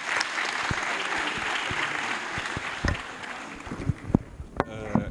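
An audience claps steadily in the hall of a national assembly, a dense continuous patter that thins and breaks into scattered individual claps toward the end.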